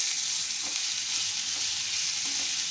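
Ingredients for sabudana tomato khichdi frying in a pan: a steady, dense hiss of oil sizzling, close and even throughout, with a couple of faint stirring touches.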